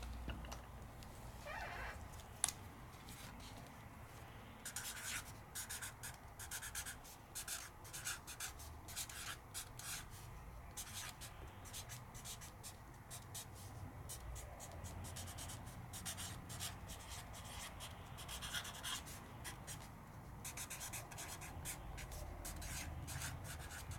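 Scoreboard crafting dies being marked with a pen, producing quiet scratchy rubbing strokes that repeat in irregular bursts, close up and faint, with no talking.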